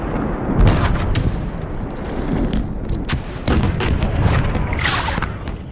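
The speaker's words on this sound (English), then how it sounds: "The thunderous roar of hundreds of cannon shattered the midday stillness" A thunderous Civil War cannon bombardment at Gettysburg during Pickett's Charge, with repeated heavy booms and cracks of artillery fire over a constant rumbling roar, loud and close.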